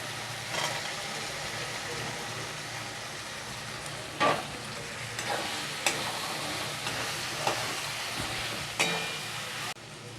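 Potatoes fry in oil with a masala of coriander powder and red chili powder for a paneer curry. A faint, steady sizzle runs throughout, broken by a few sharp scrapes and knocks of a spoon stirring the pan.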